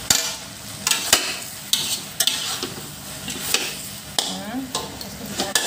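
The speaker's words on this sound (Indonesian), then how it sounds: "Nah, saya akan aduk lagi." Fried rice vermicelli being stirred in a pan, with repeated scraping and clanking of a utensil against metal over a steady sizzle of frying.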